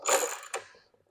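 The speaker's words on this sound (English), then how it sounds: "I highly recommend using a ratchet." A ratchet tightens bolts on a Segway Villain lower door insert kit, giving two quick metallic clicks close to the microphone, followed by a faint rattle.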